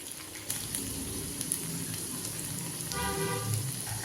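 Ivy gourd pieces frying in hot oil for chilli, a steady soft sizzle and crackle throughout, with a brief louder bubbling burst near the end and no talking.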